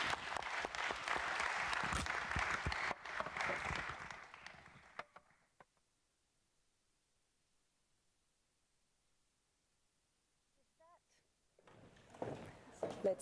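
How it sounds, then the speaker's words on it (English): An audience applauds panelists at a conference session on digitalisation and energy, with clapping that fills the first few seconds and then fades into near silence before quiet room sounds return. "Please join me for a round of applause."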